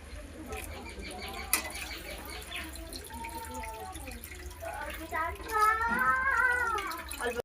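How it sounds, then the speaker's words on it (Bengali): Water poured into a pot of browned, spiced Bengali meat curry. Faint splashing and trickling under muffled background voices, swelling a little louder toward the end. "এবার আমি পরিমাণ মতন জল দেবো।"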